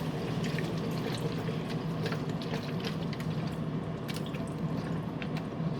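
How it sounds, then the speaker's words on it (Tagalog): Soy sauce is poured into a pan of squid adobo, giving a soft, continuous liquid trickle with light dripping and faint sizzle-like crackle, fairly quiet and close. "Lagyan natin ng toyo, guys. Soy sauce."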